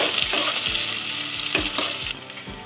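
Green chillies sizzle and fry in hot oil in a pot for chicken biryani, a steady loud crackle with a few sharp stirring scrapes and clinks throughout.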